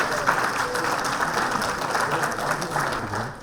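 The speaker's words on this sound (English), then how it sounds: "Let's welcome our chief guest of the today's with a big round of applause." A round of applause from the audience at a corporate award function, many hands clapping steadily and loudly throughout without a break.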